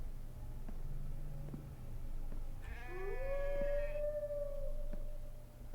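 A wolf howls in The Infected: one rising, sustained tonal howl in the middle, moderately loud over a steady low game ambience, with no talk.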